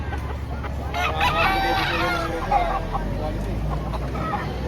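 Roosters and chickens at a poultry market in Lipa, Batangas crow and cluck nearby, with a clear cock-a-doodle-doo over the general squawking and a low murmur of voices in the background.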